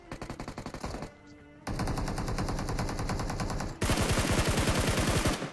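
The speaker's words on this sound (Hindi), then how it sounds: "फिलहाल मेरे को यहाँ से फायर आया" Rapid automatic gunfire in a battle royale video game, loud bursts of evenly spaced shots with a brief lull, then a denser, louder stream of fire near the end.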